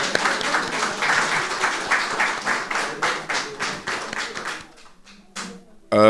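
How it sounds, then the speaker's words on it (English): Audience applause at a cancer society annual general meeting, a dense patter of clapping that fills most of the stretch before thinning out and stopping near the end. "Let's give him another round of applause."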